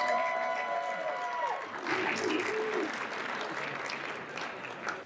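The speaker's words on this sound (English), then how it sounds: "So let's have a big round of applause as we turn the floor over to Ashley." Wedding guests at a reception applaud as a toast begins, a full round of clapping from the room that swells after a voice and sustained musical tones fade out.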